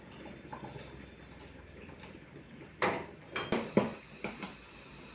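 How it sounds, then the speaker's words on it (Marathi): Boiled hot water is poured into dal cooking with wheat dough pieces, a faint low pouring wash followed by several short clattering knocks of a utensil against the pot. "पहा हे गरम पाणी उकळलेलं आहे हे थोडंसं घालते"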